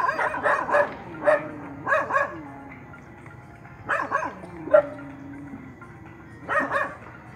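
A Phu Quoc Ridgeback barks at a breed judging session: several bursts of sharp, close barks come in clusters separated by pauses, with whiny yips trailing some bursts, and faint talk and ambient noise in between.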